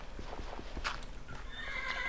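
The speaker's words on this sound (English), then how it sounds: "Those horses are bloody loud." Horses in a modded Minecraft game neigh and whinny sharply over a fast run of clip-clop hoofbeats, fairly close and brief, with no talk.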